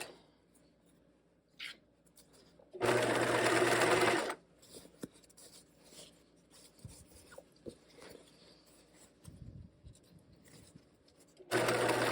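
A sewing machine stitches the lining of a caddy bag in two loud, short runs of rapid mechanical whirring, with quiet handling and fabric rustles between them.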